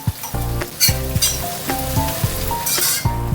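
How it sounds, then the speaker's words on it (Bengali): Two chopped onions fry in a pan with a steady hiss, while a utensil scrapes and knocks against the pan in a regular stirring rhythm, close up and loud. "এবার পেঁয়াজটাকে একটু ভেজে নেব"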